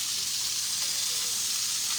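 A hot pan sizzling steadily as greens cook, a continuous bright frying hiss with no pauses.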